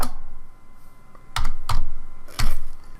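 Computer keyboard keys are pressed while drafting corridor assemblies in design software: a few light taps followed by three loud, separated key presses, close-up, with no talking.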